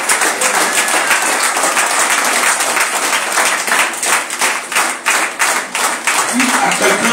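A church congregation cheers and applauds loudly for the King of Kings, with sustained clapping and shouting under a preacher's voice throughout.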